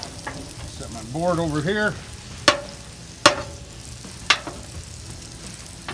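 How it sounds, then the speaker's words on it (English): Sausage and bacon frying in a pan, a steady soft sizzle beneath a brief spoken remark, followed by three sharp knocks as a cutting board is set down nearby. "We're gonna get the sausage on and the bacon."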